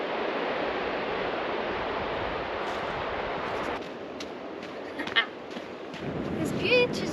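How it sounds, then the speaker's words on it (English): Broadband wash of surf on a Scottish coastal beach, steady for several seconds, then quieter, with brief faint sounds near the end. "That's one of the nicest beaches I've seen in a while."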